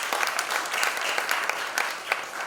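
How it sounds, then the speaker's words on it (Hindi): An audience at a children's singing competition grand finale in Mumbai claps steadily and loudly in welcome, a dense continuous patter with no voices over it. "पुनीत सोनी जी, जोरदार तालियां।"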